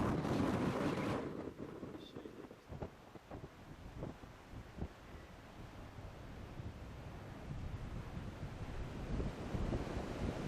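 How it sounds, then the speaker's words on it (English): Strong wind gusts roar and buffet the microphone on a disc golf course during a tournament round, a loud continuous rush with harsh low rumble throughout and a sharp blast at the very start. "That's like a new level of wind."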